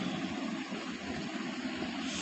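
An airplane engine in a video game about working at a new airport drones as the plane sets off, a steady, even roar with a broad hiss and no voices.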